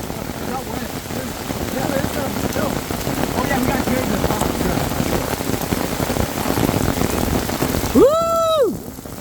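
Steady rain patters on surfaces during an outdoor barbecue, a dense continuous hiss throughout, with a brief whooping voice near the end.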